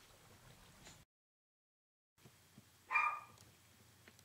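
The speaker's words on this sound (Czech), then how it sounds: "akorát to zahájelo štěknutí mýho psa" A pet dog gives a single short bark indoors, faint and distant, after a stretch of near silence.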